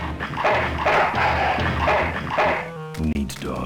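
A dog in the adventure game Full Throttle gives a series of rhythmic barks and yips, loud and close, followed by a short musical or electronic cue.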